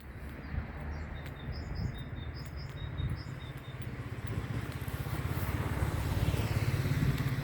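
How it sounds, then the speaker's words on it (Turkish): Birds chirp and sing high above a rumbling engine-like drone that grows slightly louder, outdoors among rocks and hills in Turhal, Tokat, with no talking. "Çok güzel kuş sesleri geliyor gerçekten."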